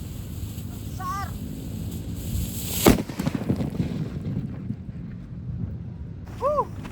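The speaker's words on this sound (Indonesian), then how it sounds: "penutupannya kita nyalakan mercon buntelan kertas yang kelima guys." A large paper-wrapped firecracker goes off outdoors with one sharp, loud bang and a short rumbling tail, while birds chirp faintly in the background before and after.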